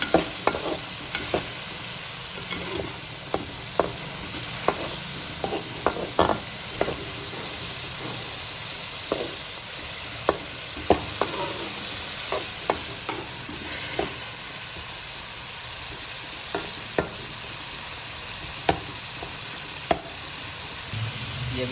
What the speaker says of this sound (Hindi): ये अब इसमें मटर डाल दें, अच्छी तरह मिक्स कर लें मसाले में इसको।